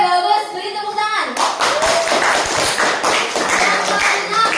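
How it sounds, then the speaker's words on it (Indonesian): A classroom of students claps in unison after a short teacher's voice, a loud close series of sharp rhythmic hand claps continuing steadily to the end. "Beri tepuk tangan."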